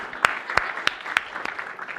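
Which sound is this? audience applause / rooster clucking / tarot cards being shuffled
audience applause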